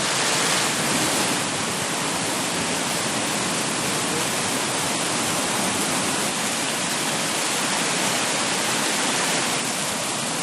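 A cave waterfall roars in a steady, loud, unbroken wash of broadband noise that fills the whole scene, with no voices over it.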